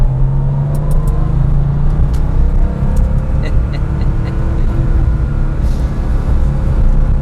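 Porsche 993 RS with a 3.8 engine accelerating hard in second gear, a loud sustained engine roar heard from inside the car that swells steadily, with a few faint clicks and no voices.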